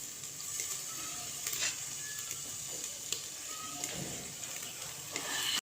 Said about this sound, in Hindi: हमारी दही को पकते हुए 1 मिनट हो गया है।